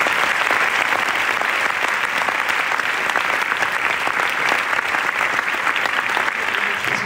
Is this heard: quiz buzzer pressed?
no